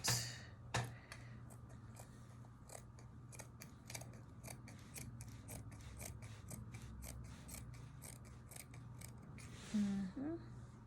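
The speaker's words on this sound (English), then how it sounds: "Taking my scissors and cutting it out." Scissors snip repeatedly through costume fabric in a steady rhythm of crisp, close clicks over a faint hum, ending with a brief soft voice.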